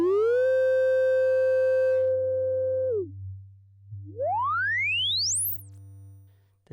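Moog Model D synth app on iPad playing a sustained buzzy tone that falls away, then a rising filter sweep climbing steeply to a bright shriek, over a constant low hum.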